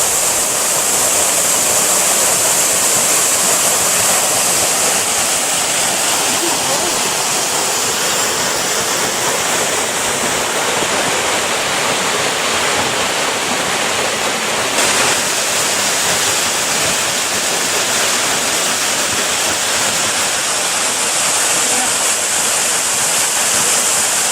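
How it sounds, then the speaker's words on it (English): The Caledonian waterfall in Cyprus's Troodos Mountains pours in a loud, dense, unbroken roar, a constant white rush of falling water that fills the whole stretch without pause. "here in the Troodos Mountains we've come to the Caledonian waterfall."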